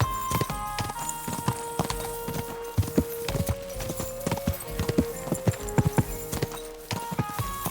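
Steady horse hooves clop in a quick rhythm over background music in Kingdom Come: Deliverance II, with a brief whinny-like tone; no talking.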